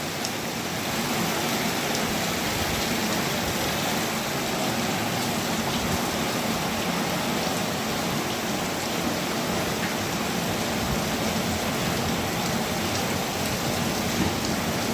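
Heavy rain pouring down in a Pakistani village, a dense steady hiss of rainfall on surfaces, loud and unbroken with no voices or other sounds standing out.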